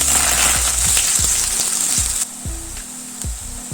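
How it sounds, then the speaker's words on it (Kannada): Onion and curry leaves frying in a pan with mustard seeds and cumin, a steady loud sizzle with small crackles and pops, close up, easing slightly partway through. "ನೋಡಿ ಫ್ರೆಂಡ್ಸ್, ಈ ರೀತಿ ಸ್ವಲ್ಪ ಫ್ರೈ ಮಾಡ್ಕೋಬೇಕು."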